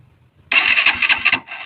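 A motorcycle's electric starter cranks its engine on a cold morning: after a quiet moment, a sudden loud, rough whirring and chattering burst runs for about a second, then briefly drops before resuming.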